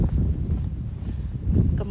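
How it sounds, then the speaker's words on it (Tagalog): Cold wind blows outdoors at a temple in Japan on New Year's Day, a steady, close rumbling buffet across the microphone with no break. "Medyo mahangin"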